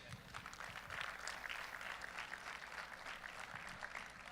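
At a USA Powerlifting meet, a crowd gives a sustained round of applause for a national referee. The clapping is steady and sounds distant and fairly faint.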